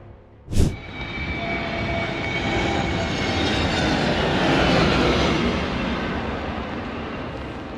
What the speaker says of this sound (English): A crazy footage with a Bangladesh Air Force combat trainer aircraft.